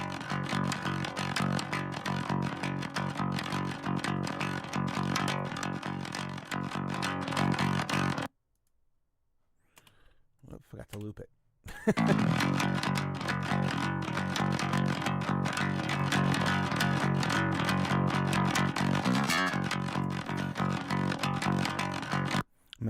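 Metal bass guitar run through a saturating distortion plugin, a loud dense gritty drone that cuts out for a few seconds, returns in short bursts, then resumes steady; a voice briefly speaks during the gap.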